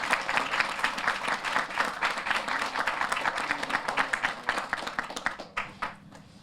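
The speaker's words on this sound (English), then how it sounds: "So if you give that a round of applause" Audience applauds at a baseball facility ribbon cutting ceremony announcing a named field, a dense burst of many hands clapping that fades toward the end.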